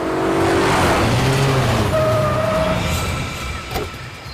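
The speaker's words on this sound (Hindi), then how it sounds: "गाड़ी की आवाज" A car engine roars loud and steady through a tense chase scene in the CID crime drama, with broad road noise that eases slightly toward the end.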